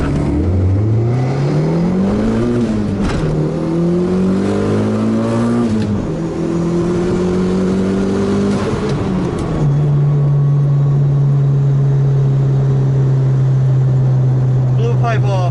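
Turbocharged Hyundai race car with its manual boost controller turned up, accelerating hard through several gears, engine pitch climbing and dropping at each shift before settling into a steady loud drone, close and continuous.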